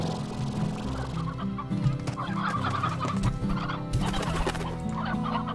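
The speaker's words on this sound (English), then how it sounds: "And I got another hen." Hens in the video game Slime Rancher cluck and gobble in a steady, busy stream of close, moderately loud fowl calls, with no talking.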